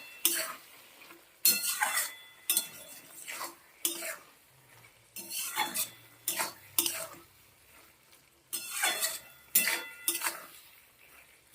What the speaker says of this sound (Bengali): এবার আবার মিশিয়ে দেবো সব কিছু সুন্দর করে আটা দিয়ে চিনি দিয়ে